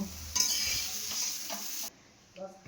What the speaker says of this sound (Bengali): এখন ভাজা ভাজা করব কুমড়ো ভাজাটা আমার হয়ে গেছে